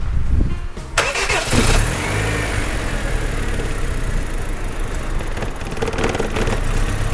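A Honda Civic FD sedan's engine cranks and fires into a loud, rough start, then settles into a steady idle with a few revving swells.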